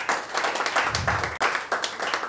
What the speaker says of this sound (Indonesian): Berikan sorak-sorai buat Yesus.